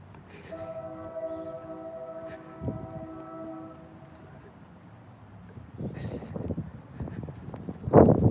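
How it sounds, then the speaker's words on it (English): A faint train horn sounds from a distance, a steady tonal blast of around three seconds, followed by scattered thuds and rustling noises. "And the train horn is going off as another stalker drives in front of me."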